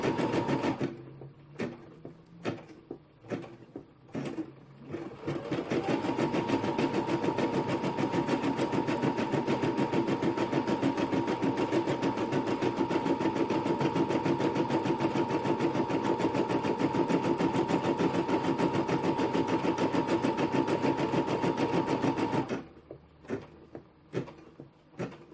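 Embroidery machine stitching a hooped design, a steady mechanical whir with a constant hum lasting most of the time, framed by a few clicks and knocks before it starts and after it stops.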